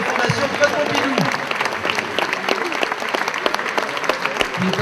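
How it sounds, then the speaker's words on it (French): A gala evening audience applauding Bernadette Chirac's arrival, sustained clapping from a large crowd filling the room, with voices and a few whoops mixed under the steady rattle of hands. "je vous demande d'applaudir chaleureusement et d'accueillir Madame Bernadette Chirac"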